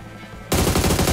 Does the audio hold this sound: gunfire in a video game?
yes